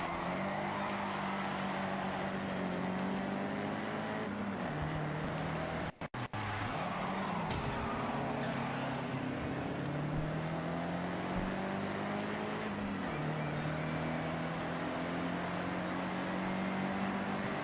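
A racing video game car engine whines continuously at close range, rising in pitch through repeated gear upshifts, with a brief dropout partway through and no talking.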